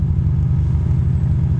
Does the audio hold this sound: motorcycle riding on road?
yes